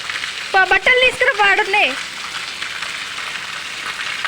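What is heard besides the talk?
heavy rain falling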